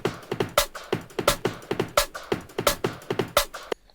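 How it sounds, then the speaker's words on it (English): A fast, punchy neuro drum and bass loop with sharp snare hits and rolling kicks in a driving, sped-up groove, loud and upfront. "It sounds very kind of neuro drum and bassy."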